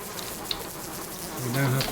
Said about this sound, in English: Let's get away from the bees anyway.